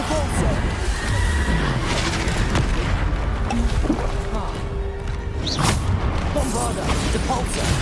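Spell combat in Hogwarts Legacy on PS5, with repeated magical blasts, whooshes and crashing impacts layered over a dense, busy game soundscape.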